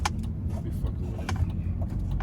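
BMW E46 M3 engine driven on a night-time uphill and downhill mountain road, a steady low rumble filling the clip from inside the car with faint clicks over it.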